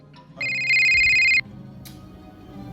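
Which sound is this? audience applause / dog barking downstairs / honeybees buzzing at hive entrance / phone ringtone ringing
phone ringtone ringing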